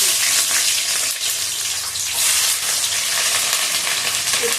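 Onions fry in a hot pan for a desi-style mutton curry, giving a steady, loud, continuous sizzle and crackle close up, with no voices.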